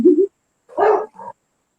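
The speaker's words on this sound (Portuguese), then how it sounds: "esse latido aí é meu cachorro que resolveu invadir nossa live hoje" A dog indoors barks three times during a live stream, short close bursts with the last one smaller, separated by silence and with no one talking.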